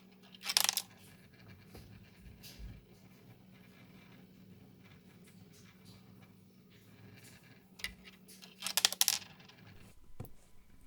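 Small pills drop and clatter inside a 3D-printed pill dispenser prototype, two short clusters of light hard clicks near the start and near the end, over a quiet steady hum.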